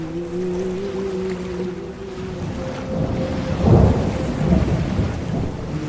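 Steady rain with a deep rumble of thunder rising midway, a cartoon storm sound effect for a night horror scene, continuous and fairly loud with no voices.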